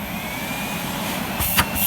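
A Miele S6220 Cat & Dog vacuum cleaner with a lid that is not sealing properly hums steadily at close range, its motor droning evenly with a couple of brief clunks near the end.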